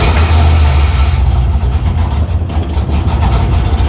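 A Pontiac Firebird engine idles cold just after start-up, a loud, steady low rumble close by that carries unbroken throughout.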